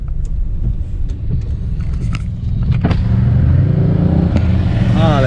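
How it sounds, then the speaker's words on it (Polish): Motorcycles pass a car on a winding mountain road in Tenerife's Anaga mountains in drizzle. A steady low engine rumble from inside the car swells as a revving motorcycle draws close and whines past near the end. "Przepuszczę motocyklistów."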